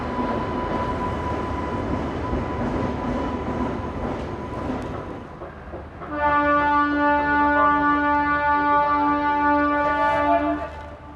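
The YPR - LUR Express, a train out of Yelahanka bound for Latur, gets moving after Guntakal. A steady rumble gives way to a loud, sustained multi-tone horn blast partway through that holds for several seconds before fading.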